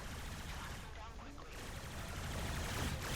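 Supra energy weapon from the video game Warframe firing a dense, continuous stream of rapid shots, loud and steady through the whole stretch with no pauses.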